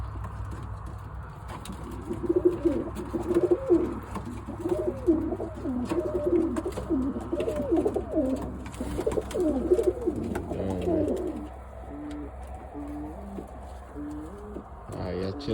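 Birmingham roller pigeons, including cocks, coo in repeated throaty rolling phrases close by over a steady low background hum, continuing throughout with brief pauses.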